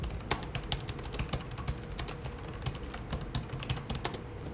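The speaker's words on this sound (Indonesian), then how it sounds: "Keyboardnya tipe mechanical Cherry MX cuy, bukan membran tipis-tipis, bukan mechanical biasa" Steady, fast typing on a laptop's mechanical Cherry MX keyboard, crisp individual key clicks close up in an irregular rhythm, with no talking.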